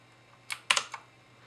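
A VicTsing backlit gaming keyboard takes three or four quick, close keystrokes, crisp little clicks over a quiet background with no voices.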